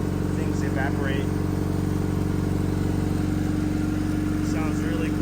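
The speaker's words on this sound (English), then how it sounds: "It sounds really quiet for a brand new engine." An LS V8 fitted with a VTEC cylinder head and a Precision 6262 turbo idles steadily on ethanol with an even, droning rumble, while someone talks over it.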